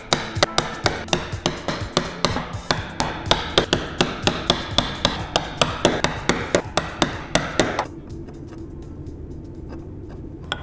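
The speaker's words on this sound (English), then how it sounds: "And then obviously we'll chisel back to the shoulder line." A chisel struck repeatedly while paring wood back to the shoulder line of a frame joint: regular, evenly spaced sharp knocks, close and loud, about three per second, stopping abruptly and leaving a quiet room.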